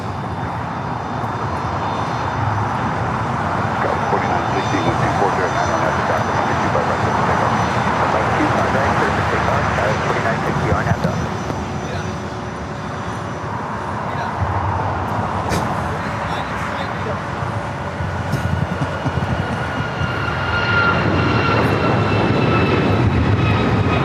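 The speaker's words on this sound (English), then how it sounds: "Cessna Citation CJ3 Plus" A Cessna Citation CJ3 Plus business jet at LAX gives a steady, loud engine roar that swells and eases over about 24 seconds, with faint airport background and other noise underneath.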